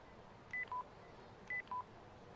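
In the video game Yakuza Kiwami 2, a mobile phone rings with a two-tone electronic chirp repeated twice, evenly spaced, clear over quiet background.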